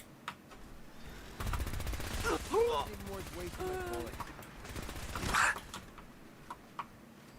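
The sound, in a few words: gunfire in video game Fallout 4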